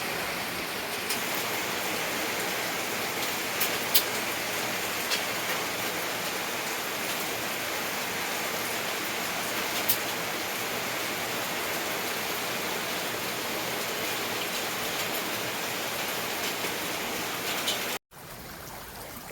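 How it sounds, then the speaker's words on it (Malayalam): A rain-swollen stream after heavy rain rushes in a steady, loud broadband roar that holds unchanged for about eighteen seconds before dropping off sharply near the end, with no voices over it. "ഇന്നത്തെ മഴയുടെ തോട്ടിലെ അവസ്ഥയാണ് ഇത്"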